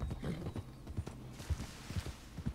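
Horse hooves clip-clop in an irregular, fairly close gait in a Western roleplay video game, a steady run of soft thuds with no talking over them.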